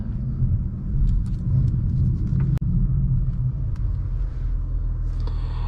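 A 2023 Acura TLX Type S on the move, heard from inside the cabin as a steady low engine and road rumble, even and continuous throughout, with one brief click partway through.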